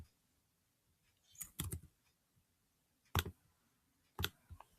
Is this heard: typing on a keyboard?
yes